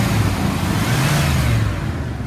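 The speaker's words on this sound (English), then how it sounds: "I'll rev it up so you can hear the engine." A 2002 Dodge Ram 3500 utility truck with 138,124 miles, revved on a cold day, its engine rising in a loud, close, throaty surge that holds briefly and then eases slightly.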